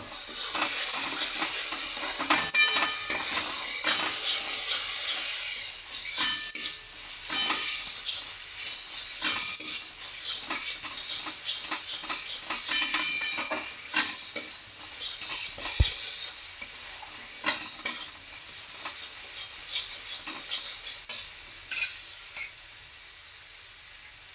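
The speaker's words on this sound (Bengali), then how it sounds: "এবার আমি খুব ভালো করে কষে নেব।" Spiced egg bhuna masala being stir-fried in a pan, a steady close sizzle and hiss with scattered scraping clicks of a spatula stirring, continuous throughout with no talking.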